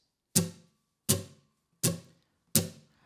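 Four evenly spaced acoustic guitar strums in quarter notes, each a sharp bright attack that fades quickly, with silence between them in a slow, steady beat.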